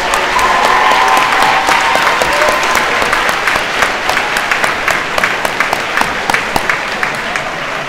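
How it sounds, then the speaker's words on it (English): A crowd at a school graduation ceremony gives parents a loud, sustained round of applause, dense clapping that thins toward the end into scattered individual claps. "Let's give them a big round of applause"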